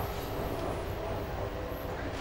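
A train rumbles steadily into Tower Gateway Station, a continuous low mechanical roar with a faint high whine above it, moderately loud and unbroken, with no voices.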